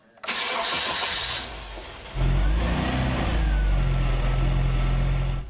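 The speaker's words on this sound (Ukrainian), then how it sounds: "Радянський двигун тепер уже удвічі потужніший, виводить на величезних дисках двотонне авто з гаража." A customized two-ton Moskvich with a hand-polished stainless steel build, oversized wheels and a Soviet engine tuned to twice its power starts up in a garage, then settles into a loud, close, steady rumble as it pulls out.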